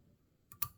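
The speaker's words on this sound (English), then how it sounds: "Get that snipped off as closely as we can." A couple of quick, sharp snips of scissors cutting thread close up during fly tying, the second louder than the first, in an otherwise quiet room.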